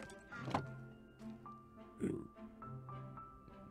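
Pig grunts from Minecraft, two short oinks about a second and a half apart over a quiet game background with soft interface tones.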